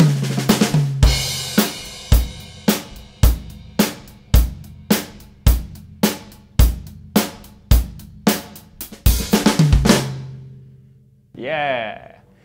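A quicker drum kit groove in a lesson setting: a faster hi-hat pattern with shaft-accented downbeats over kick and snare, played steadily and loud up close, ending with a brief fill and a short spoken word.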